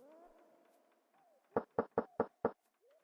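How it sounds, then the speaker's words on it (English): Five quick, evenly spaced knocks on a locked door in the Quest for Glory II VGA Remake video game, sharp and close, following a faint stretch of soft tonal game sound. "Knock the door."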